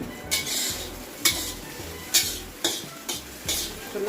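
Noodle ingredients frying in a pan for Rayalaseema-style noodles, with a continuous sizzle broken by about five sharp, evenly spaced scraping stirs, close up and with no talk.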